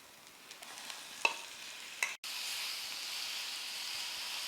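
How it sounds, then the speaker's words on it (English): Chicken stir-fries in a pan with a steady, soft sizzle and hiss. A few light clinks from stirring sound over it. "So now I am stir frying slightly."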